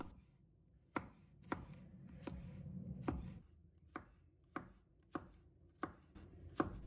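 Garlic is sliced with a knife on a cutting board, producing about a dozen crisp, close chops spaced roughly half a second apart in an irregular rhythm over a quiet background.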